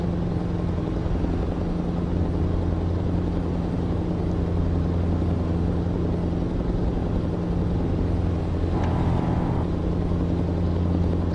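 Steady low engine drone of a truck in the video game Euro Truck Simulator 2, cruising at an even pace, with a constant hum and no talking.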